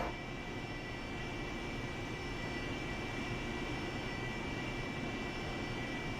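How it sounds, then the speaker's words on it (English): Small aircraft engine running during take-off preparation on runway 9, a steady, even droning hum heard from inside the cabin throughout with no pauses. "Getting ready to take off runway 9."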